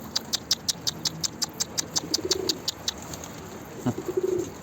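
A pigeon nearby gives soft low coos, alongside a steady series of sharp rhythmic ticks and light pattering.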